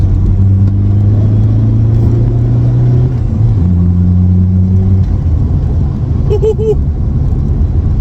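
Low drivetrain rumble inside a moving Volkswagen Passat, its droning hum shifting pitch as the engine changes, with a brief faint tone near the end.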